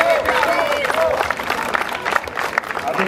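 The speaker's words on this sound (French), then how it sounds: "Allez, encore des applaudissements!" Spectators applauding at a sprint race in Couëron, a busy mix of clapping and crowd noise under a French announcer's excited commentary, with whistle-like tones threaded through.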